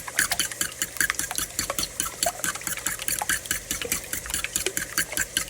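Eggs with salt and cracked black pepper whisked briskly in a bowl, a steady rapid rhythm of clicking and sloshing strokes, close and fairly loud, with no talking.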